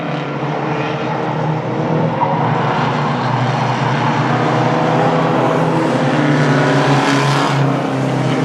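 Mighty Trucks roar around Star Speedway during a heat race, a dense, steady engine drone that stays loud throughout with no voices.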